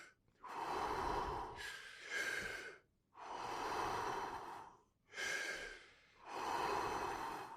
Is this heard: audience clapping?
no